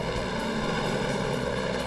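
A steady, droning rotor and engine roar from a Customs Service helicopter overhead during a search over the Texas backcountry, continuous and fairly even in loudness with no voices.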